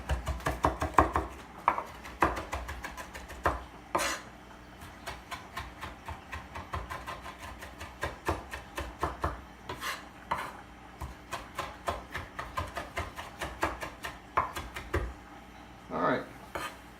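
Food being chopped finely on a board as prep for chicken and ham alfredo, a long run of quick, close knife taps in an uneven rhythm, with a few louder knocks spread through.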